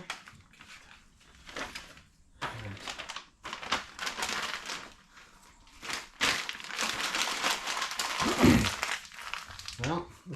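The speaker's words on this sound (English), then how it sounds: "We got a Ziploc bag here, so we won't lose anything." Plastic Ziploc bag crinkling while car parts are packed during an SRT-4 AFR gauge install, with a voice talking over it, and intermittent close rustles and crunches in bursts over roughly ten seconds.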